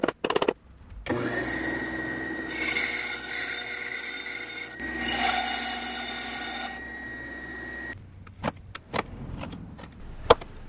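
Hand filing removes wood from a joint on a Finn Juhl-style table, with a steady close rasping scrape that runs for several seconds, then gives way to shorter scrapes and light taps near the end.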